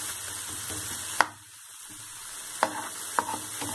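Tomatoes sizzle in masala in a pan for boondi sabji, a steady crackling fry broken by a few sharp knocks of a spoon against the pan, close and moderate in level.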